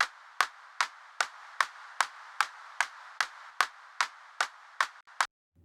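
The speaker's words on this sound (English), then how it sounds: "let's go ahead and do the extra smack, and you'll notice that the sustain or the back end of the clap gets a little bit louder" A sampled hand clap with extra smack from Parallel Aggressor compression repeats about thirteen times at a steady, even pace, each hit sharp and close with a louder, fuller tail, alone without any voices.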